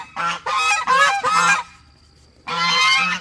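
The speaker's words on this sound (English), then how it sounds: "let me close the chickens up real quick. I guess they're going to be noisy." Loud, harsh honking calls from chickens come in bursts, three close together, a short pause, then another, near and raucous.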